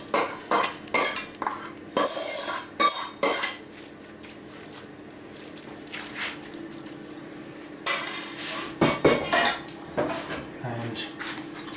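Grated cheese is stirred and folded into Käsknöpfle, cheese spaetzle, in a pot, with repeated loud metallic scrapes and clanks of a utensil against cookware, pausing midway before another burst of clattering.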